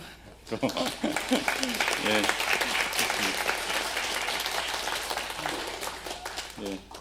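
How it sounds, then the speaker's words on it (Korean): A church congregation at a Sunday service claps in thanks after the sermon, a dense wash of applause spread across the room, with a voice speaking over it near the start and again at the end. "오늘 말씀 전해주신 송진순 박사님께 감사의 박수로"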